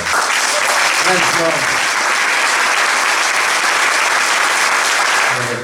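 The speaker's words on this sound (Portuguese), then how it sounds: "Para ele um grande aplauso" A studio audience applauds for João Sena at a live show, a dense, steady wash of clapping that stays loud and unbroken throughout, with a faint voice surfacing near the end.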